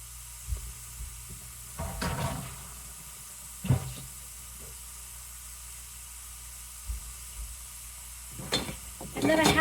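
Hamburger meat for tacos sizzles in a hot pan on the stove: a steady frying hiss throughout, broken by a few clattering scrapes and knocks of a utensil.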